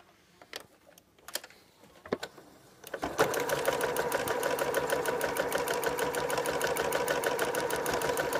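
Several sharp clicks and taps, then a sewing machine starts and runs steadily at close range, stitching a patchwork bowtie quilt block with a fast even mechanical whir.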